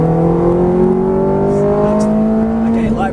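A Ferrari F430 engine pulls hard on a track, its rising harmonic whine climbing steadily in pitch as it accelerates, loud and close, with a brief dip near the end.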